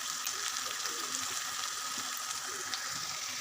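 Turmeric and chili powder frying in hot oil with gram flour, a steady soft sizzle with faint crackles, alone and without talk.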